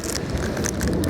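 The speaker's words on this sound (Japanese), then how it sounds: "やばい、雨降ってきた。" Rain begins to fall outdoors in the Ureshino hot-spring town in Saga, Japan, a dense, steady patter filling the whole moment at close range with no voices.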